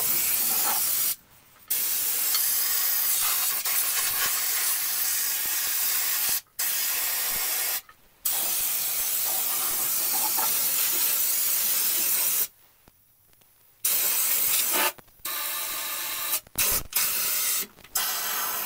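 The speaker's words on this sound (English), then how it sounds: "try to spray the goo in every hole that you can find" Long bursts of loud, close aerosol spray hiss as rust-proofing undercoating is sprayed under a car, broken by several short silent pauses between passes.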